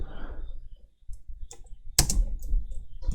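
Keys tapped on a computer keyboard while writing HTML code, with sparse clicks at first and then a sharper cluster of quick keystrokes, close and moderately loud, with no voice.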